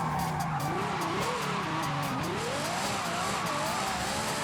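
A car pulls a stunt in Forza Horizon 5, its tyres squealing and skidding continuously under a loud, wavering engine note throughout.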